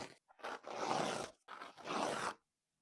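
A sharp knife slices through a paper towel in two quick, crisp rasping strokes, close and clear against near silence.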